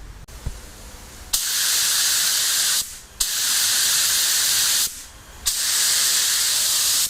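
Spray gun blasting paint thinner during cleaning before a 1962 Chevy Impala respray: three long, steady, loud hissing bursts separated by short pauses, close and without talk.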